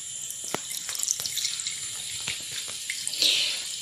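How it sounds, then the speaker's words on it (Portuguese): Water is poured into a pot of Moroccan harira soup, a close splashing stream with scattered drips and clinks, swelling into a brief louder gush near the end. "Vou juntar água."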